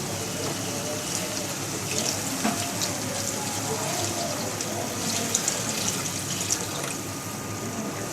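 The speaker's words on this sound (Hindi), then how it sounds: "अब हम इसके अंदर पानी ऐड करेंगे" Two to two and a half glasses of water pour into a pot of fried potatoes for a potato and egg curry, a steady close splashing gush with faint sizzling underneath.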